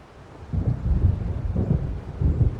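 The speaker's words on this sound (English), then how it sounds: "It seems there's a storm coming." Low rolling thunder from an approaching storm in the video game Alan Wake Remastered, deep rumbles swelling in several waves, loud and continuous.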